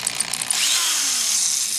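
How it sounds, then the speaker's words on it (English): Electric drill spinning a homemade mixing paddle of sharpened metal welded onto a pole, used for mixing cob; a loud, steady high whine runs without a break, with no talk. "A piece of metal, sharpened the ends and welded it onto a pole and just attached it onto the drill and it spins."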